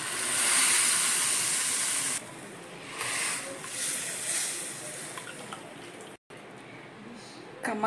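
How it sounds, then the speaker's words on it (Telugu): Hot tempering of chilli, curry leaves, asafoetida and turmeric is poured into peanut rasam, giving a loud, sharp hiss that fades into a softer, fainter sizzle after a couple of seconds. "పోపు ఇందులో వేసుకుందాం."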